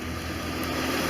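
The radiator cooling fan of a 1989 Corvette roadster runs with a steady, close whirring hum and a faint engine rumble beneath, heard briefly and evenly.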